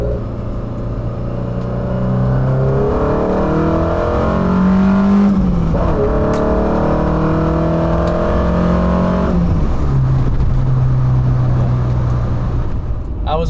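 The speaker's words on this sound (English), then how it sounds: "I'll rip it through the gears a little bit to give you guys kind of a feel of how it sounds like and how it pulls." Alfa Romeo Giulia with a Twin Spark engine pulling hard through its gears, loud and close from inside the car, with rising engine tones falling sharply at two shifts and a steady roar between them.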